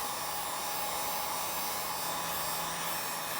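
A heat gun blows steadily on taped plastic sheeting stretched over a DIY sneeze guard frame, giving a constant airy roar with a faint electrical hum underneath, close and unbroken throughout.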